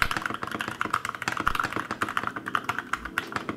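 Someone types steadily on a pre-built 65% layout mechanical keyboard, close up. The keys make quick, crisp, uneven clacks.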